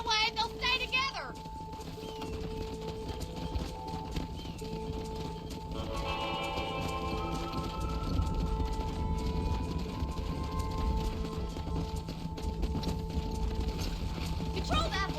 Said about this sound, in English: Now we need to move this entire herd out to the far pasture for grazing.